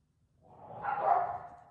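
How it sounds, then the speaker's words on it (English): Dogs bark somewhere in a home, a single soft, distant bark-like swell rising and fading over a quiet room. "Oh, those dogs."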